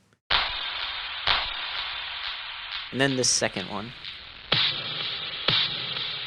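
Layered clap or snare samples, one higher and one lower pitched, struck as sharp single hits with a long washy tail, two before and two after a short stretch of speech.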